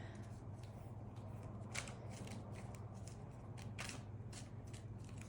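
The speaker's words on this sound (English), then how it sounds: "Three more shuffles." Tarot cards riffle and shuffle in quick repeated bursts, soft and close, over a low background hum.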